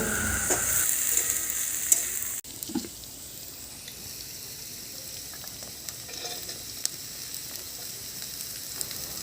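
Vegetables frying in a pan on a clay village stove, a soft steady sizzle with occasional stirring scrapes, heard close and alone without talk.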